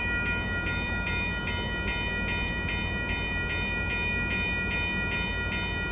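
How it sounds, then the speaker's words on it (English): Amtrak Capitol Corridor train led by an F59PHI locomotive, stopped in the middle of the 98th Ave railroad crossing in Oakland, California: a constant low engine rumble under a regularly pulsing ringing tone, with no talking. "this train is stopped in the middle of the crossing"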